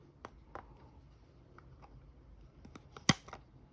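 Scissors snipping material while preparing a Transpeed pressure sensor for testing: a few sharp, separate cuts scattered over a few seconds, with one loud crisp snip near the end, close and otherwise quiet.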